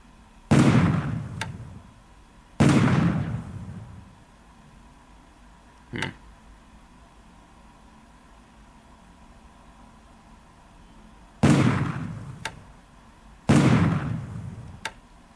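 Bombs striking a submarine in the naval strategy game War in the Pacific: Admiral's Edition, with four loud bursting impacts in two pairs, each decaying over about a second, plus a couple of sharp faint clicks in between.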